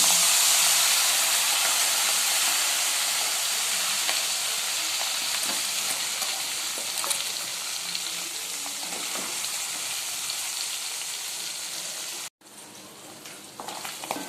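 Country chicken frying in hot oil, a continuous loud sizzle and hiss that holds steady, fades slightly, and then breaks off briefly before resuming.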